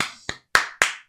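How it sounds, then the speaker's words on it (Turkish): A small group claps in three or four sharp, separate bursts of applause, close and loud, given as encouragement during a game-show style wheel game. "Bir moral alkış hep beraber."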